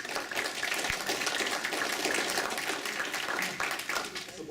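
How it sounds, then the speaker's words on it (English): Audience applause at a school board meeting, a steady round of clapping from a seated group lasting several seconds, with a voice faintly mixed in underneath. "I want a round of applause for Kendra."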